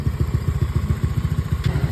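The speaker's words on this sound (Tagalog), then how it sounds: "Tingnan naman, stable siya during idle yung motor." A motorcycle idles steadily after an ECU tune, with a close, rhythmic low putter at an even pace and no talking.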